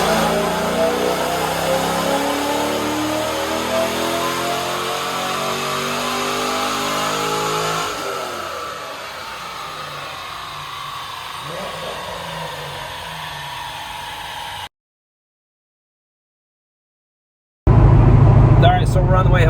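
A nitrous Corvette fixed roof coupe on a dyno revs hard with a rising engine howl for several seconds. Its tone then drops away and it idles lower before cutting out, and a loud burst of noise follows the silence.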